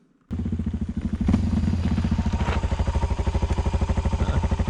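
An enduro motorcycle engine catches suddenly after a moment of quiet and settles into a loud, close, rapid thumping idle with a clattering rhythm, continuing steadily without talk.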